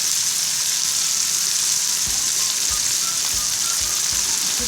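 Restaurant-style chili chicken sizzles steadily in a hot pan as tomato sauce goes in, a dense continuous hiss with soft intermittent low thumps of stirring, close and loud, no talk.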